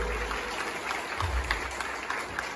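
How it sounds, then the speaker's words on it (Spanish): A concert crowd at a worship event applauds for the King, steady loud clapping spread across the room with no break throughout. "Dale ese aplauso bien fuerte al Rey."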